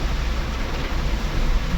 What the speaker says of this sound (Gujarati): એટલો જોરદાર વરસાદ ચાલુ થઈ ગયો